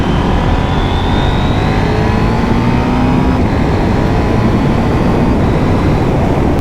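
A KTM 790 Duke motorcycle pulls hard in a high gear on a ride home, its engine a loud, steady, continuous drone with rising tonal whine and heavy wind rush throughout.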